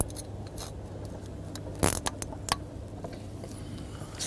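A plastic cable tie zipped tight while fixing a nozzle in place, a short burst of quick ratcheting clicks near the middle over a low steady hum, followed by a few isolated ticks.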